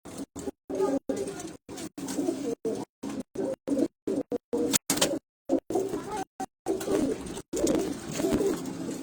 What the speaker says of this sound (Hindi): पट्टी वाले कबूतरों का शोर